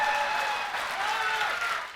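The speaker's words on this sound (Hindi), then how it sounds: "जोरदार तालियों से उनका इस्तकबाल करें।" A mushaira audience at an Urdu poetry gathering breaks into warm, dense applause, a continuous patter of many hands that swells briefly before gently tapering off.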